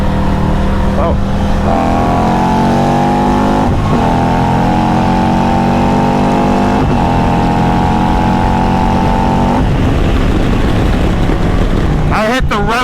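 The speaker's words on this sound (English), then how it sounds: "I hit the rev limiter, that's why he pulled away." A motorcycle accelerates hard in a drag against another bike, its engine note climbing loud and close through several gears before bouncing off the rev limiter, with a sharp sputter at the end.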